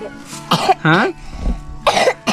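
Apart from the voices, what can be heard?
child coughing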